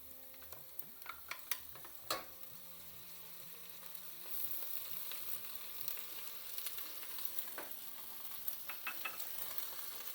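Onions with ginger garlic paste fry in a pan, a soft, steady sizzle with scattered crackles and a few sharper spatters early on, quiet and close with no voices.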